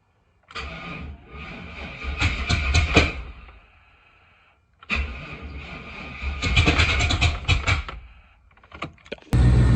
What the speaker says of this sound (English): Okay, got the Suburban running.